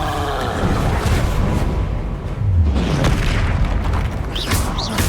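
A Bombarda spell explodes in Hogwarts Legacy, a loud, dense booming blast that rumbles continuously through the whole stretch with no pause.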